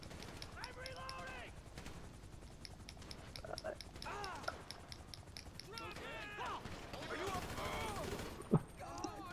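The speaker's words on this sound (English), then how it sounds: "Everybody's opening fire." Gunfire in the GTA V video game, scattered bursts of shots mixed with game sound effects at moderate volume while someone talks over them.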